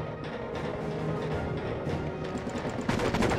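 Rapid UMP submachine gun fire in Enter The Matrix, dense bursts of gunshots running throughout and intensifying near the end, with game effects layered in.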